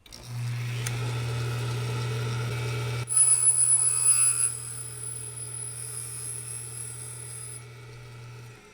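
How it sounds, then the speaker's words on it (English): Valve grinding machine dressing the face of an LQ4 engine valve, a steady motor hum with a grinding rasp that cuts out about a third of the way in, then a high whine that fades toward the end. "I'm only grinding on the backside here. In a normal situation, the grinder would have hit all the way across on the valve face"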